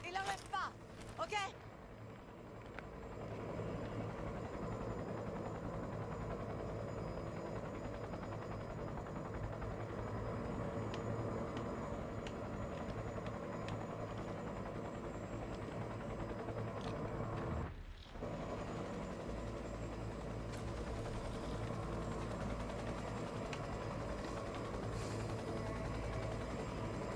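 Aircraft taking off in the video game Cyberpunk 2077, a loud, steady engine and rotor roar that holds almost throughout, briefly dropping out once midway before resuming, with talk heard near the start.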